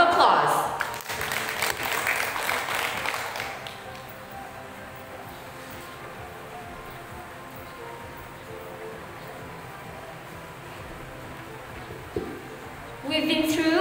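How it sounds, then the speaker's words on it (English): At a school moving-up ceremony, applause rises for a student giving a tribute to parents and guardians. It lasts about four seconds, then fades to a quiet room with faint background sound before a brief lift at the end. "Let us give her a round of applause"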